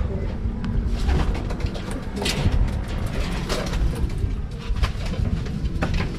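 Homing pigeons coo and flutter nearby in a loft, their low calls mixing with scattered clatter and rustling, while a voice speaks intermittently in the background.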